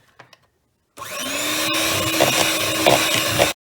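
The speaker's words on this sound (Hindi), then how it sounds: "अब मैं हैंड मिक्सर से कर सकती हूँ।" An electric hand mixer whirs loudly and steadily for a few seconds, mixing in powdered sugar, then abruptly cuts off; a few faint taps come before it starts.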